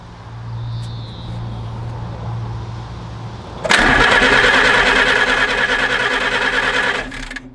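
A WW2 Jeep engine on a 6-volt system cranks over abruptly after a quiet stretch, a loud, steady, close mechanical whirring that holds for about three seconds before cutting off.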